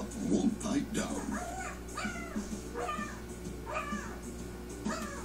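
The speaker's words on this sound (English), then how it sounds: "this rowdy pup won't pipe down" Repeated high, whiny vocal cries from a rowdy puppy among its sleeping siblings, sounding roughly once a second for several seconds over a steady low background hum.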